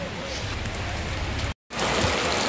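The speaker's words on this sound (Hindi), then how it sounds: "बहुत तेज बारिश आ गई गाइज" Heavy rain pours down in Pithoragarh, a hill town, with a dense, even hiss of drops on surfaces, loud and close. It cuts out for a moment, then comes back louder.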